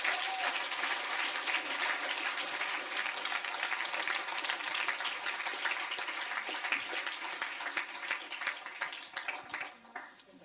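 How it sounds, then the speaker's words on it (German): Sustained audience applause for the guest Paul Young at an indoor interview evening, a dense wash of clapping heard alone for about ten seconds before tapering off at the end. "Einen herzlichen Applaus kommt für den Paul Young."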